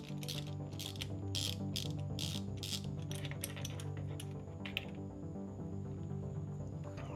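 A spark plug is unscrewed from a Yamaha jet ski with a ratchet. Quick, faint clicks come in irregular bursts, then ease off, over a low mechanical hum.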